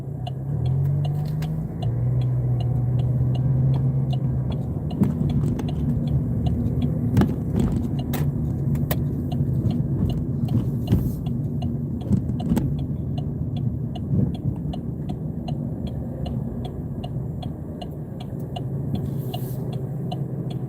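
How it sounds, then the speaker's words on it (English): Heavy road traffic near a driver's license office rolls past in a continuous loud rumble of engines and tyres, with occasional faint metallic clinks, lasting throughout with no talk. "awfully lot of traffic."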